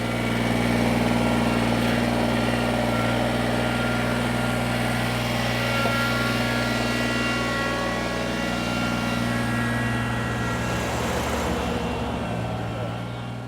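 A Kubota M6060 utility-size tractor's diesel engine runs steadily at a close, loud idle, with a continuous low drone and strong harmonic hum that stays constant throughout.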